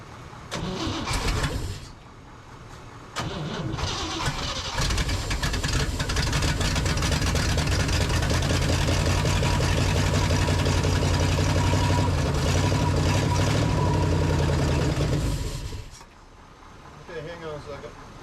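A 1965 Chevy C20 truck engine cranks in short bursts, catches, and settles into a loud, rough, steady idle for several seconds before shutting off, with voices heard around it.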